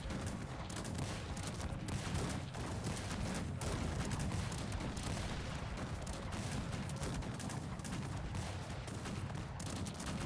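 Dragoons on horseback retreat in the strategy game Cossacks 3, their clopping hooves running beneath a constant roar of gunfire and cannon, dense and steady from start to end.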